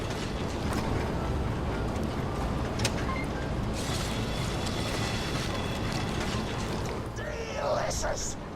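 Grinder machine running in Borderlands 2, a churning, creaking mechanical rumble with ratcheting clatter held steady throughout, plus a few squeaky game effects near the end.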